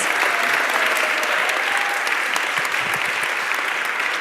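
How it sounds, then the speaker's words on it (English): Loud, dense applause from a large conference audience at re:publica 2014, a steady wash of clapping sustained throughout with no pauses. "Could I get a big round of applause for this great round of speakers?"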